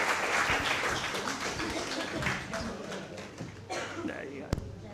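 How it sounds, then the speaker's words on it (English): Audience applause at a church testimony gathering, loud and dense at first and then thinning out, with talk mixed in and a sharp knock near the end. "So if you can give her a round of applause."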